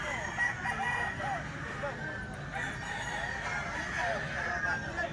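A brass back gamefowl rooster crows, its call carried over a steady bed of outdoor background noise with faint voices, at moderate distance.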